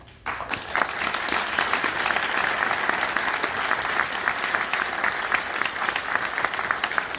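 Sustained audience applause for graduates at a University of Rochester ceremony, a dense, even roar of many hands clapping that starts abruptly and holds steady and loud throughout.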